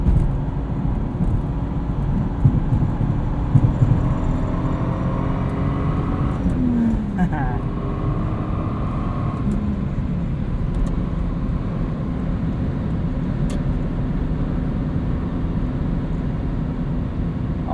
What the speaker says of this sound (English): this highway really exaggerates tire noise more than any other road